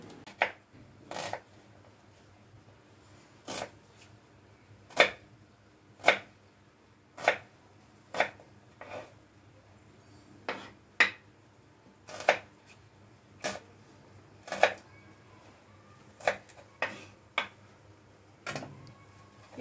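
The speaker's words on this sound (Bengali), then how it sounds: "এই পেঁয়াজগুলো সব কাটা হলো," Onions being chopped on a board in a home kitchen while preparing masala paneer makhani, giving sharp, evenly spaced knife strikes at a steady rhythm, close and clear with no talking.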